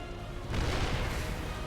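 Gunfire strikes Marines in StarCraft 2, heard as a dense, rumbling barrage of shots that swells suddenly about a third of the way in and holds steady until the end.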